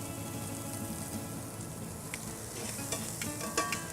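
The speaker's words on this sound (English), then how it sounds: "we're gonna drop a few onions in here, just to add the flavor to the vinaigrette, and a little bit of salt" Onions and a pinch of salt sizzle in a hot pan for a vinaigrette, a steady close crackling hiss with a few light clicks and spatters toward the end.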